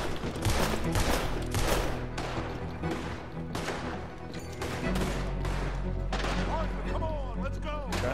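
Gunfire in the video game Red Dead Redemption 2: loud, repeated shots in quick bursts, spaced irregularly across the clip over a low rumbling game background.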